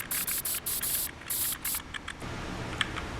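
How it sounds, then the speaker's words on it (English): Spray paint decal effect in a Unity game, a series of short hissing bursts in a quick uneven rhythm over the first two seconds, followed by soft clicking and low background noise. "the intended effect here is getting the spray paint like CSGO or Overwatch and similar games like that, where you can spray paint a tag"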